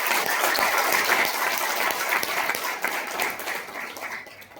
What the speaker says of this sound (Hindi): एक बार ताली बजा लो।